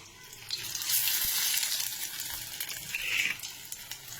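Food pieces frying one by one in heated oil produce a loud, steady hissing sizzle that swells and fades slightly, heard close with no talk.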